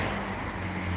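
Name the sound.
rush of road traffic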